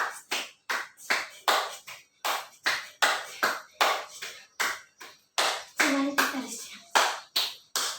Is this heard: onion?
no